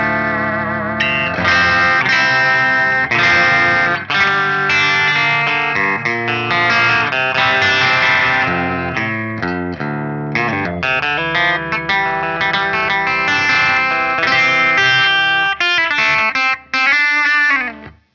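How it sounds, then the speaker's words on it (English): A 1999 Kramer Voyager electric guitar plays chords and melodic runs with a bright, effected clean tone, loud and continuous, ending with a fading note. "so here's the clean tones."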